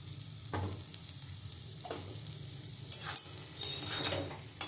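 Ghee goes into a banana flower curry cooked with chickpeas, bringing a soft, low sizzle from the pan along with a few scattered scrapes and clinks of stirring, with no voices.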